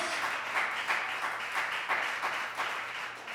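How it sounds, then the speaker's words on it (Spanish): A church congregation claps during a sermon, steady rhythmic applause filling the room at moderate volume with a faint pulsing beat. "denle un aplauso al Señor esta mañana"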